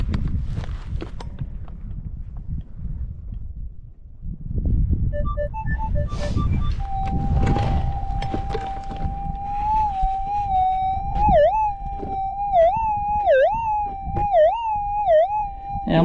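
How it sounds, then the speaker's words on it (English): A metal detector sweeps after a rough scrape of the ground while hunting for gold. A steady, clear electronic tone rises midway and wavers with pitch dips as the coil moves over the spot, heard alone outdoors. "I finally got a tone after a scrape"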